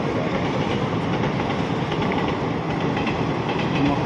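A train rumbles steadily through Makarpura railway station in Vadodara, Gujarat, a dense continuous rolling roar with faint clickety-clack of wagons, close and loud throughout.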